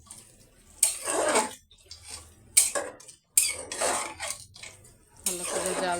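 Goat meat is stirred and braised in a pot, with several separate bursts of scraping and clattering from spoon against pot between quiet pauses, close and moderately loud.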